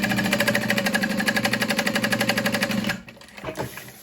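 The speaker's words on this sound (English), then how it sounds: "That is the sound of a machine that needs some oil." Domestic sewing machine top stitching a bag while in need of oil, running in a steady fast rhythmic chatter for about three seconds before stopping, followed by a few faint handling clicks.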